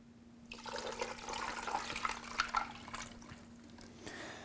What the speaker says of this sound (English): I'm going to pour a little bit of water in here.